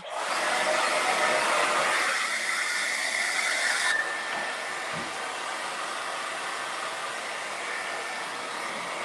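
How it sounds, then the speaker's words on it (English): A blow dryer drying paint on a mermaid painting, a loud continuous close hiss of rushing air that drops in pitch and level partway through as the setting changes, with a faint thump near the end. "I'm going to hit this with a blow dryer"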